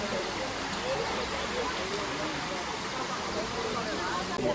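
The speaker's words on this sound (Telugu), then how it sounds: "చాలా ఫోర్స్గా వెళ్తున్నాయి వాటర్ ఇక్కడ." Water rushing forcefully near Akasaganga at Tirumala, a constant broadband wash of flowing water heard from close by, fairly faint and even throughout.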